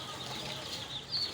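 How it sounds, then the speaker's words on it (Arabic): Chickens cluck faintly at a poultry and bird shop in Dakahlia, Egypt, their soft calls barely rising above a steady hiss of background noise. "عندنا فراخ"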